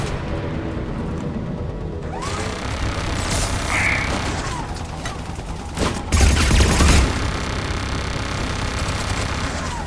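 Turret gunfire in the Mass Effect 3 video game, set on Eden Prime: a sustained barrage of rapid shots and mechanical clatter that keeps up throughout and swells into a heavier burst near the end.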